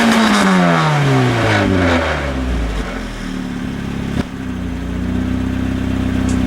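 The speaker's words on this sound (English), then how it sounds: "I know by now you're probably dying to hear this baby, so I'll give you some revs." A Japanese tuner car engine revs up loudly, climbing and then falling back, followed by a steady rumbling idle with another quick blip of the throttle.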